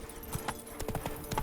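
Hooves clatter in quick uneven beats as a horse gallops in The Witcher 3, a close, fairly quiet run of clip-clop strikes with no talking.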